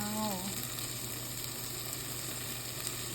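Onion sautéing in butter for a homemade Japanese curry, a faint steady sizzle with a brief tonal tone at the start, no talking.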